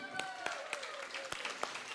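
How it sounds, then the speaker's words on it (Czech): Scattered hand claps from a small crowd at a folk festival, soft and somewhat distant, with a faint tone and murmur in the background. "Potlesk, prosím."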